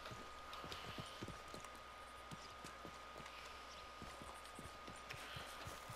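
Horse hooves clip-clop at a steady walking rhythm in Red Dead Redemption 2, quiet but distinct, a regular series of sharp hoof strikes over a low ambient background with no talk.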